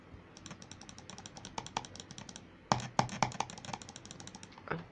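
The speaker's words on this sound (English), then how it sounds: "I'm clicking, but it's not letting me." Rapid computer keyboard typing and mouse clicking during a Fortnite session, close and fairly quiet, in irregular bursts that grow louder and busier in the second half, with no talking.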